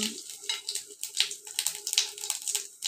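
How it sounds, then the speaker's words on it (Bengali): White cumin seeds sizzle in hot oil in a wok, a steady close hiss with quick crackles and pops running throughout. "দেখো আমি সাদা জিরে ফোড়ন দিয়ে দিলাম"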